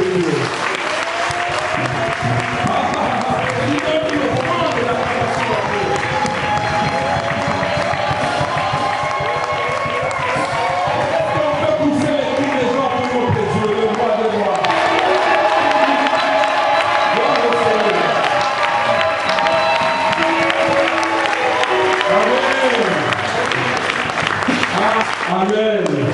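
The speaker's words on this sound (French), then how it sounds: "Nous pouvons donner une offrande d'acclamation à notre Dieu." A church congregation fills the room with sustained, loud applause and cheering, with shouts and voices mixed into a steady roar that continues without a break.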